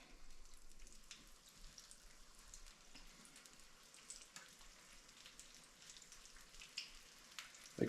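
Breaded bluegill and crappie fillets frying in oil that is not fully hot, a quiet, steady crackle and sizzle with faint popping throughout, close but low in level.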